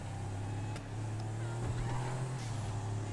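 The Patriot Stretch limousine in GTA 5 Online idles with a steady, low engine drone that stays at an even level throughout, with no talking.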